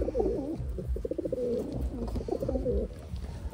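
Pigeons coo in a low, throaty, repeated warble, several calls overlapping closely with no talking.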